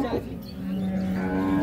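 A Holstein Friesian cow gives one long, loud, close moo that swells and holds steady at a livestock market, with no talk over it.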